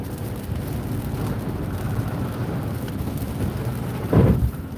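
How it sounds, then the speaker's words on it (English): Heavy rain from a severe thunderstorm pours in a dense, steady roar, with a brief louder thump near the end. "Very heavy rain fell."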